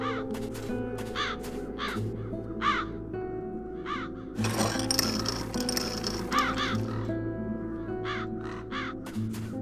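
Crows in The Dark Eye: Chains of Satinav caw repeatedly in short harsh bursts over a steady low ambient drone, with a brief louder rustling wash midway.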